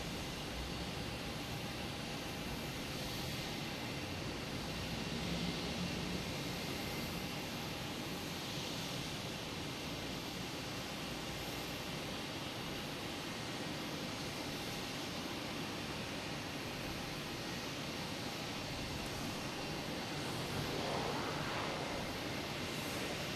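A steady, distant broadband roar of jet aircraft taking off and landing at Boston Logan Airport in the evening, continuous and fairly faint with little change throughout.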